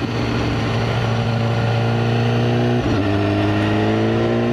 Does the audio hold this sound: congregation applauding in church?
no